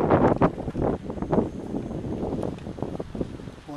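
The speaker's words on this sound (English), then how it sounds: "Wind's blowing 20 miles an hour." Gusty wind, blowing around 20 miles an hour on a cold November night, buffets the microphone during a secluded bicycle ride, producing irregular bursts of rumbling wind noise with no voices.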